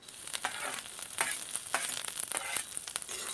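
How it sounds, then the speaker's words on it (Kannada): Garlic frying in a pan on low flame for a sambar onion gravy, a soft continuous sizzle with light stirring clicks, close and alone. "ಆ ಬೆಳ್ಳುಳ್ಳಿನ ಕೂಡ ಇದೇ ಬಾಣಲಿಗೆ ಹಾಕಿಬಿಟ್ಟು ಸ್ವಲ್ಪ ಫ್ರೈ ಮಾಡ್ಕೊಳ್ಳೋಣ"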